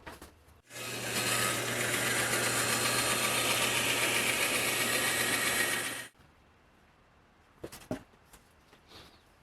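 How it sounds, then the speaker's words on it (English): A bandsaw cuts through a border piece for a custom play button, running as a loud, steady mechanical whir for about five seconds before it shuts off, followed by a few faint clicks of handling. "I'm going to cut this on the bandsaw."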